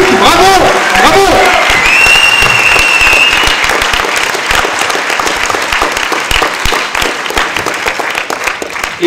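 Sustained, joyful applause fills a cinema at a film premiere, thick and even for several seconds before thinning slightly, with a voice speaking over the start.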